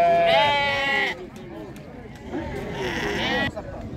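Sheep bleat repeatedly at a busy livestock market in Beylagan, several loud nearby calls rising and falling in overlapping bursts, with people talking throughout the crowded pen.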